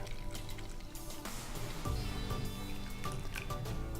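Water poured or running into a matcha bowl while preparing a matcha latte, a quiet trickling and splashing with faint clinks, close and alone.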